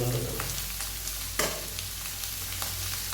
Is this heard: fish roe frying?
yes